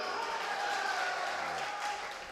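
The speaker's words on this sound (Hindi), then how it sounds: "तो यार एक बार ताली बजाओ" An audience at an All India Mushaira in Deoband claps steadily for a poet, the sound faint and distant and continuing without a break through the whole clip.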